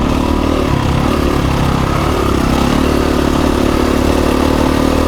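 A motorcycle rides along a dirt two-track in the desert near Trona Pinnacles, its engine droning loudly and steadily with a rough, rattling clatter throughout and no break.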